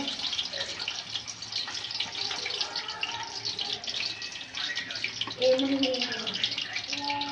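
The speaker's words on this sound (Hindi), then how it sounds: "अभी इसे मैं जो है ना फ्राई करने लगा हूँ। ये देखें, ऑयल जो है ना गर्म हो गया है।" Marinated fish fries in hot oil for a restaurant-style fish fry, giving a steady, close hiss of sizzling with a faint voice toward the end.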